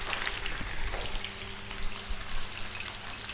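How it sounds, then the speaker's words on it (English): A twine-tied pork roast searing in a hot pan, a dense, continuous crackling sizzle with spitting fat, steady and close, without speech. "we're gonna very carefully place this down and sear it nicely"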